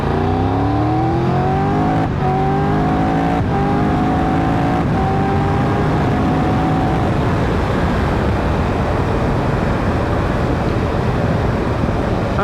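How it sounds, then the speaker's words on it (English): A Triumph Tiger 1200 GT Explorer motorcycle engine pulls hard from second gear, quick-shifting up with short breaks between rising revs, loud and close and blending into a steady engine roar with heavy wind rush. "to try and give you an idea what the engine sounds like"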